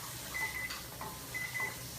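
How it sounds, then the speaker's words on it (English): A kitchen timer counting down pasta cooking gives two pairs of short, high electronic beeps about a second apart, faint against a steady background hiss. "Oh, looks like the timer's done for the pasta."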